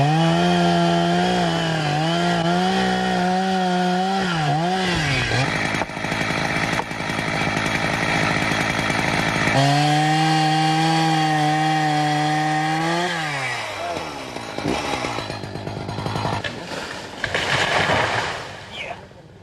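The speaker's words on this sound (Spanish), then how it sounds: "Son muchos años, muchos anillos en el tronco, los que se vienen abajo con los embates de la sierra." A chainsaw felling a large old tree in an Asturian forest, its engine loud and close, revving and bogging as the chain bites through the thick trunk, pitch rising and falling across the cut.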